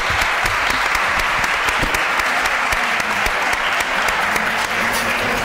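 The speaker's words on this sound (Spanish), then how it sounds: "Un aplauso, venga." Audience at a seniors' activity centre in Seville's old quarter breaks into steady, dense applause, many hands clapping together at even loudness from start to finish with no voices on top.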